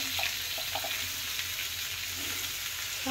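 Five-spice seeds and dried red chilli tempering in hot oil, a loud, steady sizzle and crackle from a close pan, continuous throughout with faint stirring and no talk.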